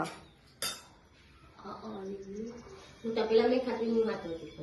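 Pots and steel vessels clatter in a home kitchen in the early morning: two sharp metallic clanks near the start, then softer handling under a voice and cooing pigeons.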